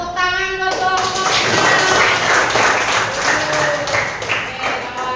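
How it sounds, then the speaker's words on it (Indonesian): A group of people applauds loudly and densely, with voices and some tonal sounds mixed in at the start. The clapping is close and continuous for several seconds. "tepuk tangan buat kelompok"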